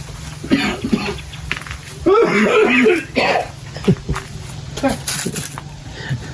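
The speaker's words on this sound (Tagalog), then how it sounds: "Ubo." Several harsh coughs and throat-clearing bursts from a nearby person, spaced irregularly over a few seconds against a quiet background.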